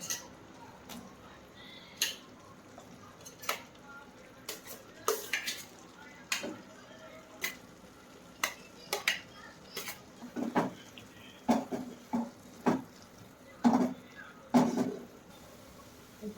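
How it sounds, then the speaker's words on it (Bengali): Potatoes and carrots are sautéed in a cooking pot, heard as a series of sharp, separate clinks and scrapes of a spoon against metal at irregular intervals, fairly faint and close, with no talking. "এরপর আমি আলু আর গাজরগুলো দিয়ে দেবো একটু কষিয়ে নেবো"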